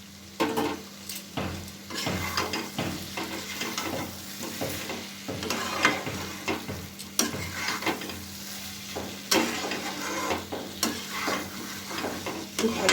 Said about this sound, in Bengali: এবার ভিজে রাখা আলুটাকেও এতে দিয়ে দিলাম।